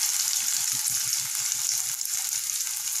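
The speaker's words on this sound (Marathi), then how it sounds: "हे आपण फोडणीमध्ये घालून घेऊ" Onion, ginger-garlic paste and tomato sizzling in hot oil tempered with mustard seeds and cumin, a loud, steady crackling hiss with faint rhythmic stirring beneath it.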